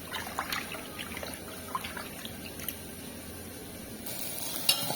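Something sizzling softly in a pan while being stirred before liver is added for a liver curry, with faint crackle, light scraping and clinks under a steady hiss, fairly quiet and close.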